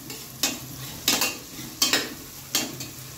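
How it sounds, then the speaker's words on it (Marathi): Onions frying in a pan for a mild dal khichdi, with a steady sizzle under repeated scraping stirs of a spoon against the pan, about five strokes in quick rhythm, close and moderately loud, no talking. "कांद्याचा कलर ट्रान्सपरंट होईपर्यंत कांदा जरा फ्राय करायचा"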